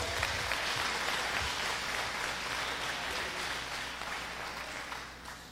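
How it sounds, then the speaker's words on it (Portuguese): A church congregation claps throughout in dense, steady applause at a Portuguese-language worship service, sustained for the whole stretch and fading only slightly toward the end. "Você pode dar uma salva de palmas para Jesus?"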